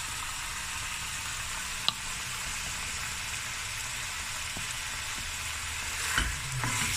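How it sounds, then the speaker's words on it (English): Oxtail frying in a pan gives a constant, even sizzle and crackle close by, with one sharp click early on and a slight swell near the end. "I'm just going to let this fry through."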